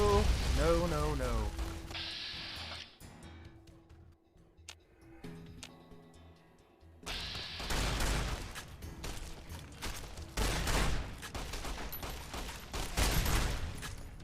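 In the video game Fallout: New Vegas, an incinerator fires flame bolts in loud, dense bursts of crackling gunfire-like blasts with a quieter lull in between, mixed with other game sounds.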